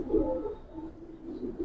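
Young Giribaz pigeons coo in a loft, a low throaty cooing that swells at the start and rolls on steadily, near and fairly loud with no talk.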